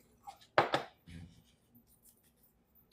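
A few quick clinks and scrapes of a whisk stirring agave syrup and a pinch of salt in a bowl, two sharp strokes close together followed by a softer scraping pass, then quiet.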